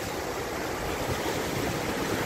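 Waves on the Black Sea, heard as a dense, steady wash of rushing water, loud and even, with no voices.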